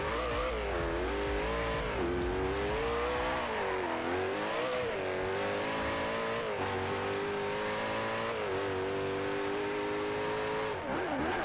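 Koenigsegg Agera supercar in Forza Horizon 2, engine note rising and falling steadily through repeated gear shifts while accelerating hard, loud and continuous throughout with no talking.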